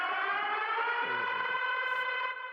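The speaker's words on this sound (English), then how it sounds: "Let me hit the siren here." A civil defense style siren sound effect wails at steady pitch for a few seconds, fairly faint and alone with no talking, trailing off at the end.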